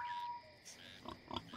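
A few short pig grunts and oinks in the Red Dead Redemption 2 (RedM roleplay) game, fairly faint and close, after a brief tone and low background noise.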